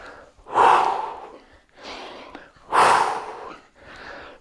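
Heavy exhales during a home dumbbell workout, four forceful breaths out in a steady rhythm, close and loud, alternating stronger and softer puffs.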